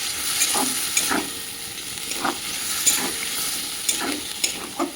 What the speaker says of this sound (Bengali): এবার দিয়ে দেবো জল দিয়ে মিশিয়ে রাখা সমস্ত মশলাগুলো। মশলাটি দিয়ে ভালো করে কষিয়ে নেব।